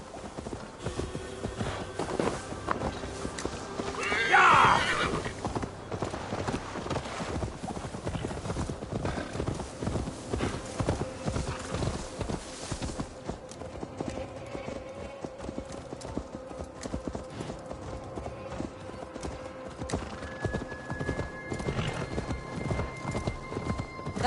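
Horse hooves clip-clop steadily throughout in an Assassin's Creed Valhalla-style video game scene, with a brief whinny or neigh near the start over a continuous ambient background.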